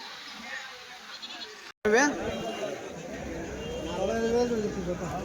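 Goats bleat with wavering cries among a busy crowd, voices chattering throughout at a lively weekly goat and sheep market in Kadiri.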